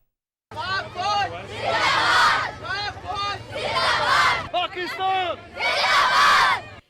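School students at a rally in Islamabad chant slogans in support of the Pakistan army, loud group shouts rising and falling in repeated waves over a continuous crowd roar.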